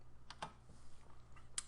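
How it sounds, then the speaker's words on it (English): Someone types on a computer keyboard at a desk while working in AutoCAD 2022, a few faint, sparse key clicks over a quiet background hum. "I just started typing the word units"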